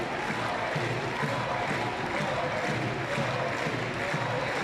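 Steady crowd murmur and cheering fill a Paralympic boccia match at Paris 2024, a continuous moderate wash of spectator noise with faint rhythmic clapping and no clear pauses.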